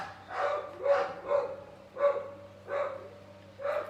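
A dog barks steadily, about six evenly spaced, moderately loud barks under a low, constant background hum.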